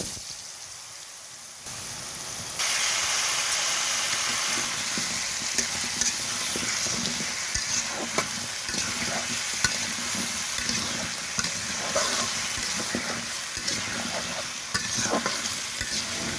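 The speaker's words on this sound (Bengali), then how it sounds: "ওলটা আমি ভাজা তেলের মধ্যে দিয়ে দেব।" Elephant foot yam fries in hot oil with cumin seeds in a village kitchen. Loud, continuous sizzling swells in after a quieter start and carries on with frequent stirring scrapes and crackles, with no voices.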